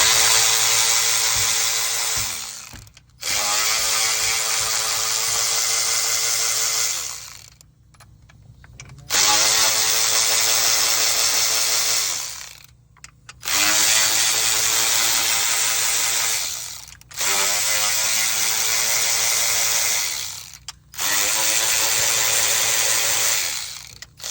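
Power tool loosening engine oil cooler bolts on a 2018 Dodge Grand Caravan 3.6, running in five loud sustained bursts of several seconds each, separated by short pauses.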